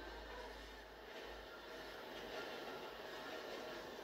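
A train rolls past in a video game, a steady low rumble of wheels and cars that holds at moderate, even loudness throughout.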